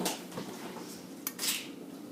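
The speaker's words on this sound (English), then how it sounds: "I'm going to mix it up and it'll get creamy" A spoon mixing a powdery food in a bowl until it turns creamy, with soft scraping and a couple of sharper clinks against the dish, close and fairly quiet.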